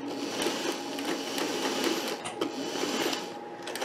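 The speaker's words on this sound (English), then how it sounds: "I'm just going to do a couple stitches to hold it" A sewing machine runs in a quick mechanical whir, stitching fabric for a skirt made from upcycled shirts, close and steady for a few seconds with brief changes in pace.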